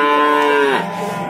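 A single bovine at the Prambanan cattle market in Klaten gives one loud, close, drawn-out moo that slides downward and fades.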